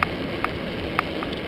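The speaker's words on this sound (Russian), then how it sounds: "И начался дождь, по-моему, да?" Rain falling during a bicycle trip, a faint steady patter of drops with a few sharper ticks at irregular moments, no voices.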